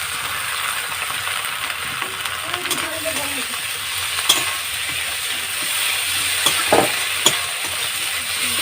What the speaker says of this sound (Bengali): আদাটাকে একটু ভালো করে ভেজে নিচ্ছি। পেঁয়াজের সঙ্গে আদাটাকে ভেজে নিলাম।